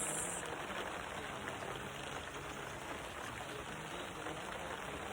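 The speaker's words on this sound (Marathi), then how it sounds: "आलेला आहे पाऊस" Rain falls steadily on a small garden in the Konkan countryside, a soft continuous hiss of drops on leaves and soil with no voices, even in level throughout.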